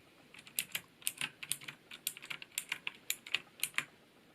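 Fast, steady typing on a Skydigital NKEY-K2 mechanical keyboard with clicky Outemu blue switches, close up and crisp, a run of sharp clacks at an even pace with no voices.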